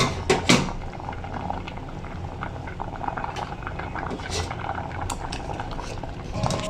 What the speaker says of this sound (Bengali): চাল করে নিয়ে আমি এখন একটা ডাল ঘুটনি দিয়ে একটু ঘুটে নেব